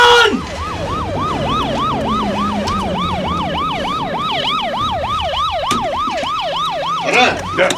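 A police siren wailing loudly and close in a rapid, repeating up-and-down whoop, with traffic rumble beneath and a brief burst of shouting near the end.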